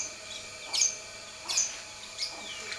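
Birdsong from starlings and bulbuls outdoors, with three short bright chirping bursts at regular intervals over a faint steady background hum, moderately distant and without talk.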